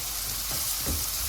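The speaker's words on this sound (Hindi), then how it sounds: "अब इन्हें तकरीबन 2 से 3 मिनट तक भून लेंगे" Spices such as salt, red chili powder, turmeric, garam masala and dried coriander frying in a pan for a dhaba-style egg curry, giving a steady close sizzle with no voices.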